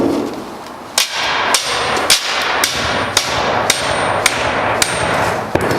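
A flathead bar is hammered into a jamb to set a jamb-mounted prop: about a dozen sharp, loud metallic strikes land in a fairly steady rhythm, close up, with light background hiss between blows and no speech.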